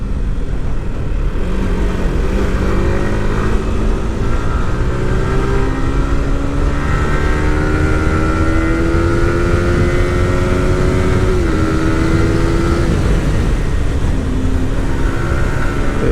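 A Yamaha R15M motorcycle engine while riding, a steady loud drone with its pitch climbing through the gears in several rising sweeps, with continuous wind rush and no talking.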